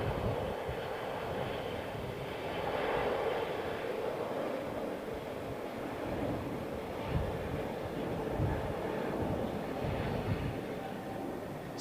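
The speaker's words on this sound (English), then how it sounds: "let's just have a look at this American Airlines 777 going out" Departing American Airlines Boeing 777 at London Heathrow, a steady, broad roar of jet engines that holds at a constant level for the whole stretch with slight swells, heard from a distance and with no talk.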